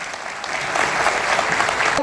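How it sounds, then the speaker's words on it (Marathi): Loud, sustained applause from an audience at a political bhajan equipment distribution event in Sawantwadi, steady clapping filling the whole stretch and growing slightly fuller midway. "एकदा जोरदार टाळ्या"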